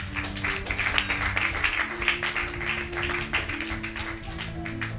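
A church congregation at a Bible teaching service claps and applauds, a dense run of rhythmic claps continuing over voices for several seconds.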